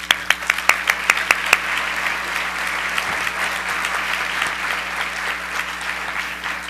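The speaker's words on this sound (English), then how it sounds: "Let's give them a round of applause." A seated audience applauding at a formal event, dense sustained clapping opened by a few loud isolated claps, steady and fairly close throughout.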